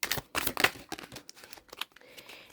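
A deck of tarot cards shuffled by hand at close range, quick bursts of riffling and slapping card edges in irregular clusters, alone without speech.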